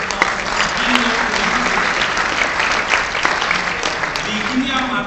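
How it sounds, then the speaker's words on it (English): Steady crowd applause at an award ceremony, full and continuous from start to finish, with a few cheers and voices mixed into the clapping. "Please give Raul Ramirez a round of applause."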